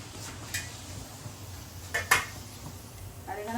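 A metal pot clanks down on a stove during couscous cooking, two or three sharp knocks of cookware against metal, fairly faint, with a clink near the end and no talk.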